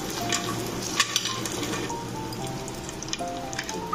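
Whole spices tempering in a spoonful of hot ghee before rice is added, a steady close crackling sizzle with scattered sharp pops, continuous and fairly loud throughout with no talking.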